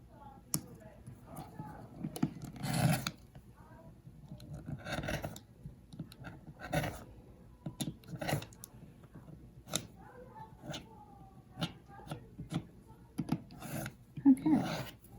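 Rotary cutter or scissors trimming the edges of a fabric half square triangle quilt block, giving soft intermittent rasping cuts and rubbing strokes at close range, scattered through the clip.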